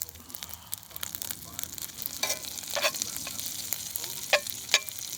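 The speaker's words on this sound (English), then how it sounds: "I'm going to have me a little bit of red beans and rice. Just put it right in there with the burger." Red beans and rice warm alongside a burger in a pan at a solo hammock campsite, giving a soft steady sizzle with a few sharper crackles and stirring scrapes, no voices.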